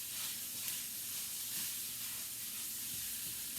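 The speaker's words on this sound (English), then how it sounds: "I'm just going to brown my sausage and my bacon together." Sausage and bacon browning together in a pan, giving a soft, steady hissing sizzle that stays faint and even for the whole stretch, with no talk.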